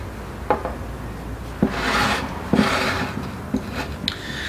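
Schefflera bonsai branch being pruned, several short rasping cuts and rubs on woody stem, close and clear with no talking.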